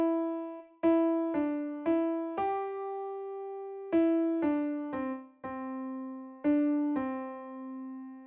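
A single melodic instrument plays a melody at doubled note lengths: about a dozen distinct notes, each struck and slowly decaying, with one long held tone in the middle, clean and unaccompanied.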